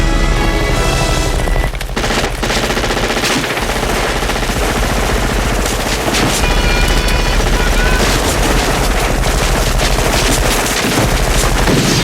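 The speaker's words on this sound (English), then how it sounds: "Just the guys firing into the jungle after Mac cries" Sustained automatic gunfire from a group of soldiers shooting into the jungle in the 1987 action film Predator, a loud continuous barrage of rapid bursts and booms lasting throughout with no talk.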